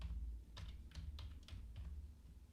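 Computer keys click in a short burst of about half a dozen quiet taps, close by but faint over a low background hum.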